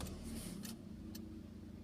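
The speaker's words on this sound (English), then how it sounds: "I'm gonna fully turn it until I hear the car cranking." A manual car's engine cranks on the ignition and settles into a steady, close, low rumble that runs without a break and has no voices over it.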